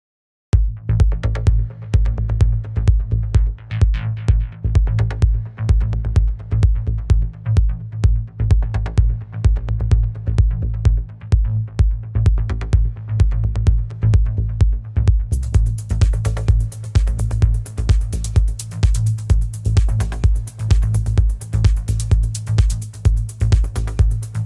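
Several synthesizer bass patterns layered together in a live studio trance production, a steady, loud pulsing low end with a rhythmic ticking layer on top, and a bright, fuller top joining partway through, with no voices.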